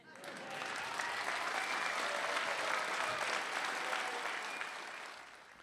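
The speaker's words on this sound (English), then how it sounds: "That's Iowa's first couple, Kim and Kevin Reynolds, applauding behind her as they sat in the audience" An audience applauds at Nikki Haley's first Iowa presidential campaign stop, with Iowa's governor Kim Reynolds and Kevin Reynolds among the seated crowd; steady, dense clapping swells quickly and holds throughout before easing slightly at the end.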